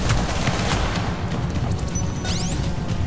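Video game turret fires a rapid, loud burst of bullets with sharp cracks and rising electronic sweeps, continuous over a dense battle din.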